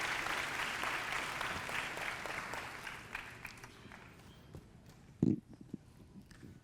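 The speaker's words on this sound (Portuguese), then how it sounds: "Aplaudam ele, gente." A church audience applauds with dense clapping for about three seconds, which then thins out into scattered claps and a few knocks.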